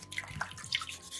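A soapstone fish carving rinsed under running water, a brief close splashing and trickling with small drips over steady water flow.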